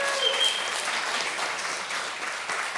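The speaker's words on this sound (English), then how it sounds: "let's give them all a round of applause" A live audience gives a round of applause, a steady wash of many hands clapping at moderate distance that fades slightly toward the end.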